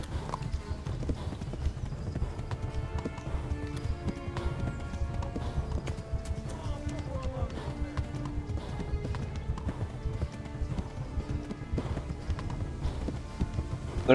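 Steady rhythmic hoofbeats of a galloping horse pound continuously under a dense layer of game music and effects in the video game Kingdom Come: Deliverance, loud and close throughout.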